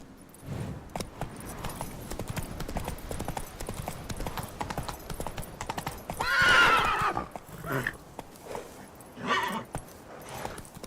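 A horse's hooves clip-clop steadily in The Witcher 3: Wild Hunt, with a loud whinny bursting out midway and fainter snorts and neighs following.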